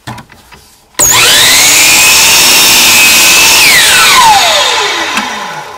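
A power saw makes a bevel cut through wood for serving tray side pieces: a loud, near whine kicks in abruptly, holds steady through the cut, then winds down in pitch as the blade slows.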